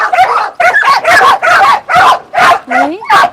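Several dogs on a South Korean dog meat farm bark repeatedly in a loud, close, rapid series, with a higher whine or yip near the end.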